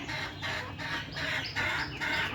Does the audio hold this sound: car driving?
no